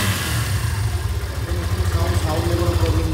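A used motorbike on a Bangladeshi dealer's lot idles steadily up close, a low continuous engine rumble with slight pulsing and no clear revving.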